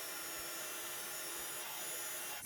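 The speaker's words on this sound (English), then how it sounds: "I'm going to heat emboss those in silver." A heat tool melts silver embossing powder on a handmade birthday card, giving a steady, close, breathy fan hiss without pause.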